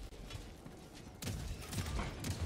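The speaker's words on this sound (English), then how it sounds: "Don't shoot me, turret." Turret gunfire in the Helldivers 2 video game, bursts of rapid shots that start softly and then erupt louder with several sharp volleys, heard alone without talk.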